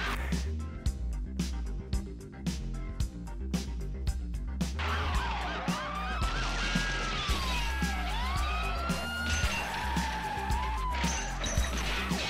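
Police car sirens wail and sweep in pitch over engine roar and tyre skids during a film chase along a waterside road, with pursuing police cars and an oyster truck, loud and continuous with sharp hits early on.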